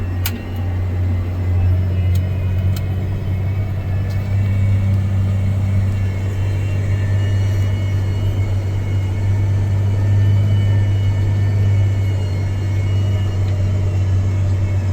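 A John Deere tractor runs steadily through fall tillage, its loud, continuous low engine drone and rumble unbroken throughout, with faint higher mechanical tones and no speech.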